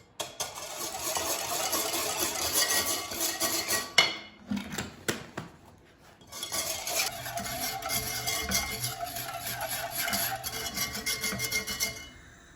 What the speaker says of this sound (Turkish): Bunu karıştırıyoruz ve ocağa alıyoruz.